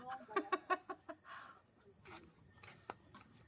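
Hens cluck in a quick burst of several close, loud notes, then scattered softer clucks and calls follow in a quiet outdoor setting.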